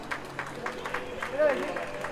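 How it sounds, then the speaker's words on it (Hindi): Audience applause at an honoring ceremony with garlanding of guests, a steady mid-level patter of crowd clapping with a faint tonal squeak partway through. "तालियों में कमी नहीं रहनी चाहिए।"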